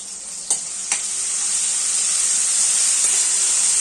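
Salt dropping into a hot oil tempering for pasta, two sharp clicks, then a rising, steady hissing sizzle as the pan is stirred, close and loud with no voices.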